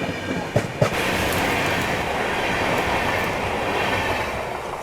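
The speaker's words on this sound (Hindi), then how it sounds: "ये निकली आपकी ओखा रामेश्वरम एक्सप्रेस।" The Okha Rameswaram Express, hauled by a WAP-7 locomotive, rushes past on an Indian railway line with a loud, continuous roar of wheels and carriages and a few sharp clacks at the start, heard up close.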